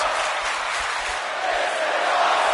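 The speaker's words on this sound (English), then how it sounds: "He wants his crowd on their feet. He wants them to make some noise." Wrestling arena crowd in the WWE 2K25 video game, a dense, steady wash of cheering and roaring voices that holds at a constant level for a few seconds.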